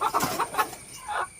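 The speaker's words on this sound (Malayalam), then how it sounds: "തങ്കളത്ത് അപ്പയ്ക്കൽ ജോർജിന്റെ കോഴിക്കൂട്ടിലാണ് മൂർഖൻ കയറിയത്." Chickens clucking inside a coop where a cobra had entered, several short agitated clucks in quick succession, close and fairly clear, with no talk.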